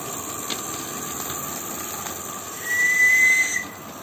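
A live steam radio-controlled Heisler locomotive, a 1.2 kg model, sounds one sustained high whistle lasting under a second, rising above a steady hiss and faint background noise.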